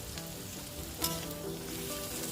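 Vegetables including capsicum and tomato fry in a pan for local veg chowmein, a steady close sizzle throughout with a brief louder crackle midway, no talking.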